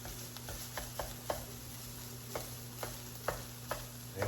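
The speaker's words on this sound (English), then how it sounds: "You're just cooking all the pink out of your sausage." Sausage frying in a pan while biscuits-and-gravy gravy is being made: a steady sizzle runs throughout, broken by sharp clicks and taps of a utensil stirring and chopping the meat, with no talk.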